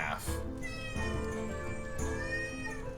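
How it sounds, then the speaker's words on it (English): A cat meows in a long, drawn-out wail, repeating in strained caterwauling cries that rise and fall across several seconds, close and loud, with a little background voice. "The cat meows like she's being sawed in half."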